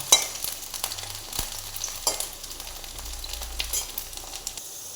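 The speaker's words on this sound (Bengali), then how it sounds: "আলু দিয়ে আমি ভাজছি" Potatoes fry in a pan for a bottle gourd curry, a light crackling sizzle punctuated by sharp clinks and scrapes of a spatula, close and moderately loud.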